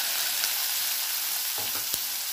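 Cumin seeds and finely chopped onions sizzle in hot oil in a pan for a green gram curry, a steady dense crackle with a few sharper stirring scrapes near the end, no one speaking.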